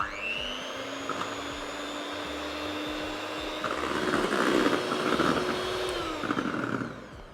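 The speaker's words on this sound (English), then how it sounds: "We're going to mix this for about a minute or so just to get everything incorporated on a low speed" Stand mixer running at low speed, whipping potato protein with coffee powder, giving a steady motor whine with a rising, busier churning texture midway, close and continuous with no talking.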